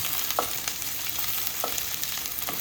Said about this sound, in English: Just gonna stir fry that.